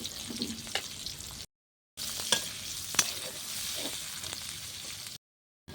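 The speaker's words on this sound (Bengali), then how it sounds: "এই ফোড়নটা একটু ভাজা ভাজা করে নেবো" Chopped onion and dried red chillies crackle and sizzle in hot oil for a tempering over a clay stove, with stirring scrapes and a few sharp pops, close and steady apart from two brief dropouts.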